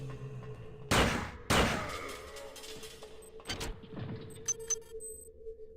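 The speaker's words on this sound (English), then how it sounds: "Cobain brand shotguns." Shotgun fire in System Shock 2 Remastered, two loud booming blasts about half a second apart, each with a long decaying tail, then a third, softer shot and scattered clanks and pings.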